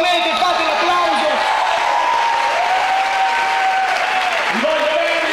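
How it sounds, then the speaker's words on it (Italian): Steady, loud applause from a theatre audience at an Italian comedy show, filling the whole stretch with dense clapping, a few whoops and background voices mixed in. "se volete fate l'applauso"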